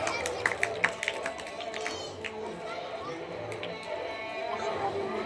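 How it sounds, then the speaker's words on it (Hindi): An audience applauds performers at a school Republic Day celebration in Raghunathganj, with a few sharp claps early on that settle into a steady, moderately distant wash of clapping and crowd noise. "आप सब उनके सम्मान में एक बार जोरदार तालियां बजाएं जिन्होंने ऐसा प्रदर्शन किया"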